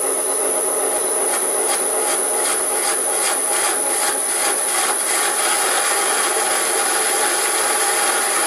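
A lathe tool rubbing against a metal workpiece instead of cutting while drilling a cross hole, giving a steady rasping, scraping drone with faint rhythmic pulses, continuous and fairly loud throughout.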